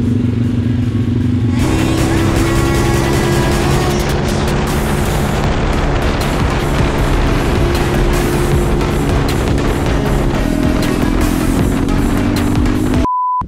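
Pit bike engine pulling away, a loud continuous buzzing motor with rising revs and clatter that holds steady throughout, close by and with no talk over it.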